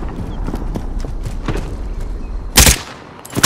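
Gunfire in the battle royale video game Call of Duty Warzone, scattered sharp shots and a rhythmic clatter, with a loud close blast near the end and another at the finish.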